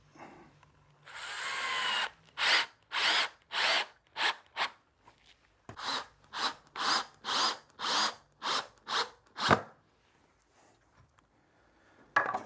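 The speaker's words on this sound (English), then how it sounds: "Put that in place, a couple of screws in." A power drill drives screws into glued wood pieces for a handmade saddle stand, giving two runs of short, loud, rhythmic whirring bursts close to the mic, separated by a brief pause.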